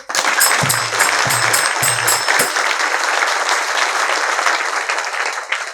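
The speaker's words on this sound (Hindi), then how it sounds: "बजाओ एक ताली जोर से।" An audience at a spiritual discourse bursts into loud, sustained clapping, a dense wall of hands that stays strong for several seconds, with a few low thumps near the start.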